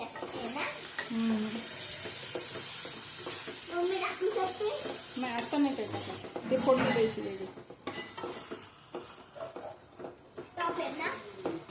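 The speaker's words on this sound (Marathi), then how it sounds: "आता हे सर्व आपण मिक्स करून घेऊया" Chickpea curry mixture stirred in a pan for chole, a soft sizzle with repeated spatula scrapes and pan clatter, while a voice and other talk carry on over it.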